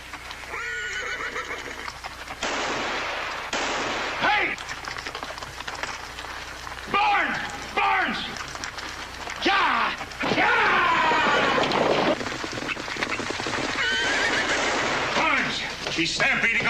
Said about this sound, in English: He's stampeding our horses.